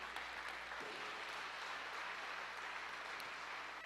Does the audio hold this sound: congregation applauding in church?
yes